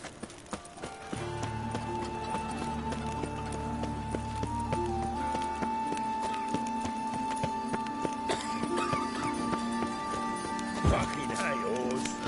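Horse hooves in The Witcher 3 video game, a steady rapid clip-clop of galloping, close and continuous, with game music and a spoken voice over it.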